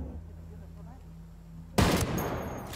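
A single loud, unsuppressed gunshot in the video game Ghost Recon Wildlands, a sharp blast that breaks in suddenly after a low, steady game ambience and leaves a ringing tail.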